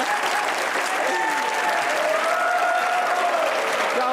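A studio audience at a comedy talk show bursts into steady, full applause that holds at an even level throughout, a broad wash of many hands clapping.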